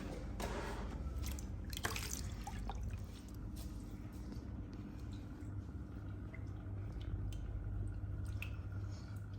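Aquarium moss being rinsed in a bucket of water, a steady wet sloshing and dripping with soft squishes, close and continuous with no talk.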